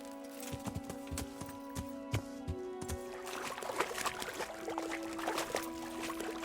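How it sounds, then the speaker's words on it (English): In the Kingdom Come: Deliverance video game, a horse wades through water, its hooves splashing and sloshing in an uneven rhythm over a steady, tonal game background hum. "Let's see if the horse can go across."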